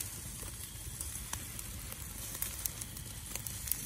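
Rotisserie-cooked prime rib searing at a campsite, giving a quiet, steady sizzle with faint scattered crackles, heard close with no talk.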